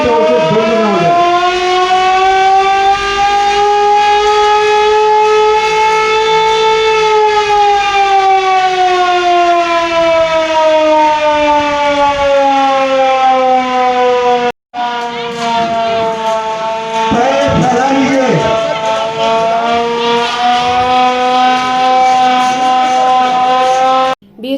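A civil defence siren sounds the green alert, a loud, sustained, slowly rising and falling wail lasting over twenty seconds, cut briefly midway and then resuming.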